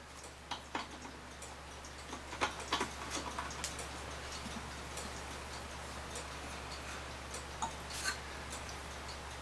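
A Hamilton carriage clock made in West Germany, model 663719, with a balance escapement, ticks faintly in a quiet room as a string of soft, irregular clicks over steady low hum.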